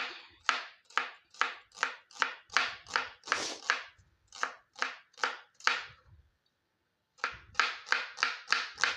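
Knife chopping onions on a board for onion paratha: a steady series of sharp, close chops in quick rhythm, about twenty strokes with a pause near the end before a final fast run, no talking.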